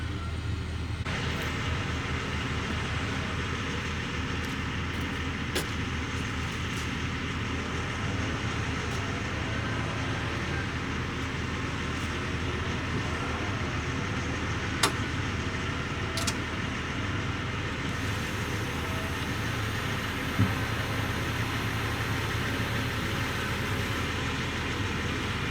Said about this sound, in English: key is on, the pump is running